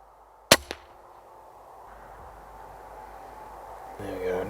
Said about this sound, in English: There we go, not a perfect shot, but all the same, the rabbit's down.